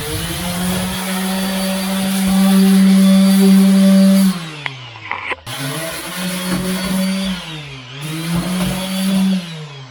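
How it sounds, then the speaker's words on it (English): A power sander works over blue steel on a steel boat, a loud whining buzz that rises and falls in pitch, cuts out briefly midway, then resumes with shifting speed. "We sanded the blue steel so the paint would better adhere to the surface."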